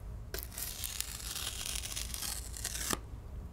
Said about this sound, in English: Ripping cards on cardboard and chaos.